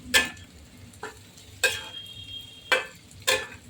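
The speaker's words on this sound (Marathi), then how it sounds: "कसे छान परतले गेले बोंबील घातले" Dried Bombay duck fish (bombil) with tomato stir-fried in a pan, heard as four or five distinct scraping clinks of a spoon against the pan at a steady pace over a faint low sizzle, close and clear.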